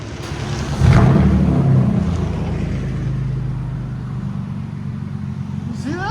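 A 2016 Hyundai Genesis G80 with a naturally aspirated 3.8-liter V6 on straight pipes gives a loud, raspy exhaust roar that swells near the start, then settles into a steady, deep drone with some wind buffeting.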